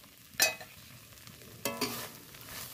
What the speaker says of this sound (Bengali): ভালো করে নেড়ে চেড়ে